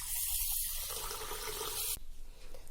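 Rice is washed in water, with a close, steady rush of pouring water and sloshing for about two seconds, then an abrupt drop to quieter swirling and light splashes.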